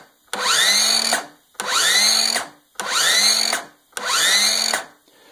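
A cordless drill motor spins up in four separate bursts, each roughly a second long with a rising whine, separated by short pauses; close and loud.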